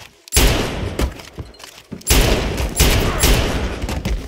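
Rapid, loud, close gunshots in Red Dead Redemption 2, fired in quick succession against ironwork with booming reports and ringing tails, and a voice faintly underneath.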